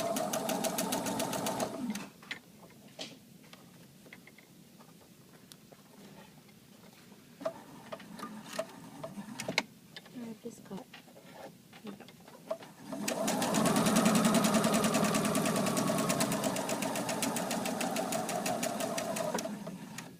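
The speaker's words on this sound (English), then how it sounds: "Just sewing a straight line, it's on an individual piece of fabric." Domestic sewing machine running a straight seam on a single piece of fabric, a steady mechanical whir that starts briefly, pauses with small clicks and handling, then runs loud and continuous for the last several seconds.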